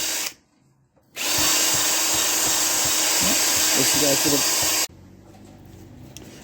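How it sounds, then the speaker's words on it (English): A valve guide brush spun by a power drill scrubs out brake caliper slider pin bores, a loud whirring rasp that starts after a brief silence, runs for several seconds with rubbing variations, then cuts off into quiet room noise. "we're going to get a valve guide cleaner, valve guide brush, and we're going to go in there and we're going to clean these out"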